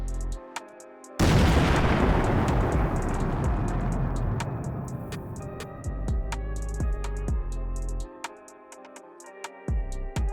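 An explosive detonation in the military game Arma 3: one sudden, loud, close blast that rolls into a long rumbling decay over several seconds, with scattered faint clicks afterward.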